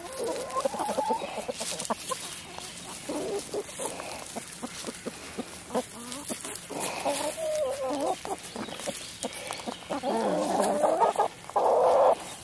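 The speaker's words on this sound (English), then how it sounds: "Happy chickens." A flock of backyard chickens cluck and squabble excitedly while scrambling over food, with repeated close, busy clucks and squawks that grow louder and more crowded toward the end.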